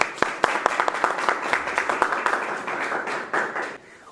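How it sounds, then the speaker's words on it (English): Audience clapping for a debate team at a group discussion event, a steady patter of many hands with sharp individual claps, fairly close, tapering off near the end. "please clap for your team."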